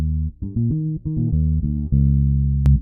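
Electric bass line played with open strings in a raking style: a run of plucked, sustained low notes changing every fraction of a second, ending on a long held note, alone with no talk.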